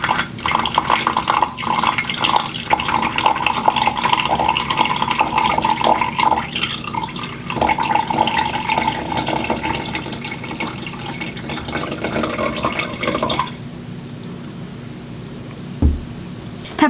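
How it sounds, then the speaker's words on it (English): Water pours slowly into a container around a candle for a Pepper's Ghost illusion, a steady trickling and splashing that continues for several seconds before dropping to a faint, quieter flow. "And now I'm going to very slowly fill this candle in the back with water."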